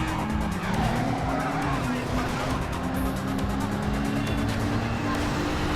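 A blue BMW-like car in the Midnight Club 2 video game, its engine droning with a steady high whine and tire squeal over continuous road roar, loud and close, with a voice faintly underneath.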